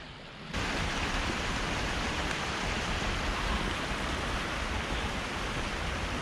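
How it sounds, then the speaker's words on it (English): Rain falls steadily on a forested mountain trail along the Annapurna Base Camp trek in winter, a constant loud hiss that starts abruptly and continues evenly, with no voices. "Because it's raining, it's so slippery now."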